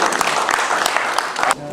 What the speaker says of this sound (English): please give a round of applause one more time